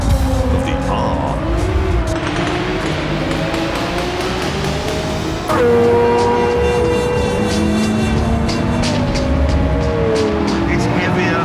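Pagani Zonda Tricolore engine in the Gran Turismo 7 video game, a loud continuous racing drone whose pitch climbs and falls through gear changes, with a sharp shift partway through and tyre noise beneath.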